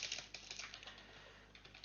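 Rapid typing on a computer keyboard while a password list is entered into a text file, with quick irregular key clicks running steadily throughout, close and fairly quiet.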